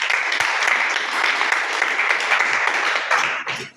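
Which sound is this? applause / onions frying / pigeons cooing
applause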